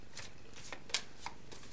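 Tarot cards are drawn and shuffled in a few quick crisp riffles and slides, close and quiet, with no talking.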